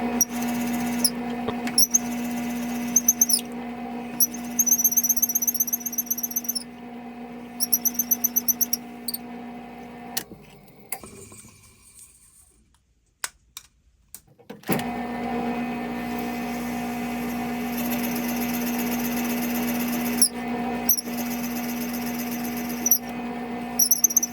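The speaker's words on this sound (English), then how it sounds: "I drill the 1-inch diameter holes with a Forstner bit in my drill press" A drill press drilling 1-inch holes with a Forstner bit: a steady motor hum runs throughout with high whining tones, cutting out briefly in the middle before resuming, droning close by.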